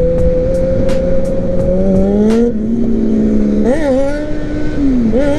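A motorcycle accelerates hard while lifting its front wheel, its engine note rising steadily in pitch, then shifting and surging again, heard loud and close over a steady vehicle drone with no talk.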